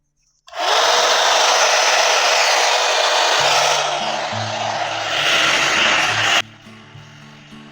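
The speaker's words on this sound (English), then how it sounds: "Now I'll start blow drying my hair." Handheld hair dryer blowing on sectioned hair during at-home straightening, a loud steady whoosh starting abruptly, its tone shifting slightly as it moves, then cut off near the end leaving a faint hum.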